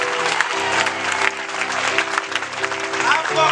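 Congregation clapping during a Hindi-language church preaching service, dense, rapid applause sustained throughout, with music playing underneath.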